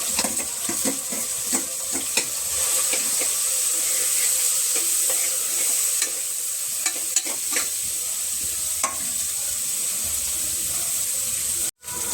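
Boiled potatoes drop into a pan of sizzling dosa gravy, followed by steady frying hiss and scraping stirring clatter that runs nearly continuously and close, with no talking.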